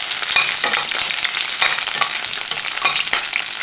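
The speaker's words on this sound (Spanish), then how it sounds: "Yo le agregué 1/4 de copa de aceite. Ahora le vamos a agregar la cebolla. Vamos a dejar que se dore un poquito." Onion frying in about a quarter cup of hot oil in a pan, a loud, continuous close sizzle with crackling and a few sharper pops, no voices.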